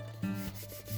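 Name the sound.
hand rubbing paper over gel printing plate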